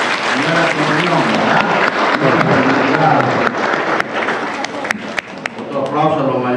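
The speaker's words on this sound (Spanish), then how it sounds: "Un aplauso a los niños que hicieron su primera comunión." Sustained applause from a crowd at a village festival in Cantón Candelaria Arriba, San Cayetano Istepeque, steady clapping throughout with voices speaking and calling out over it near the start and end.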